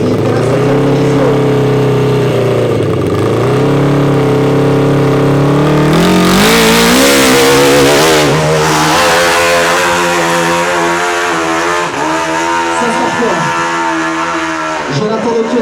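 A race motorcycle at the Arette hill climb revs hard and close, with loud engine pitch sweeping up and down through gear changes over about fifteen seconds as it climbs.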